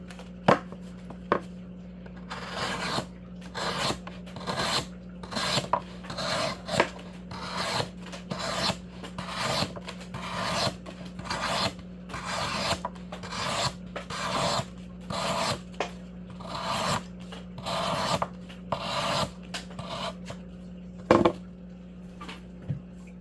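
A Spyderco Para 3 knife with a Magnacut steel blade slicing through cardboard, giving a long run of close, repeated rasping strokes at an uneven rhythm over a steady low hum, with no talking.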